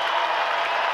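A stadium crowd at a concert at Safeco Field in Seattle applauding, a dense continuous wash of clapping and cheering that fills the whole moment, loud and sustained.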